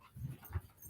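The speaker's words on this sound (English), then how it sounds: "That's my dog's excited running around." An excited pet dog whimpers softly and scrambles around, a few faint, brief muffled sounds in quick succession, somewhat distant.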